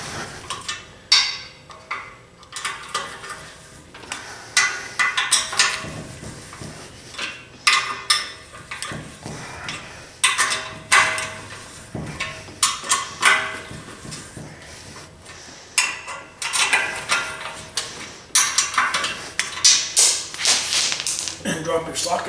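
Hand ratcheting with a socket wrench on soft transmission bolts of a 4R100 automatic, giving quick bursts of clicking and tapping metal that come in irregular clusters, close by, with faint background noise between them.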